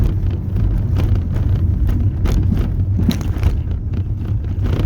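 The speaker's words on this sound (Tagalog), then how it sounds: "Tractor." Tractor rumbling past on a rural bypass road near San Jose, Nueva Ecija, a loud continuous low engine drone with rattling, heard from close by inside a travelling vehicle.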